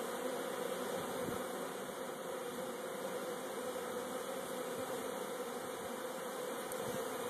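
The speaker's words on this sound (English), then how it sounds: "See how they're fanning their wings?" Honeybees fanning their wings at a hive entrance, a steady, even buzzing drone that holds close and unbroken throughout with no voices.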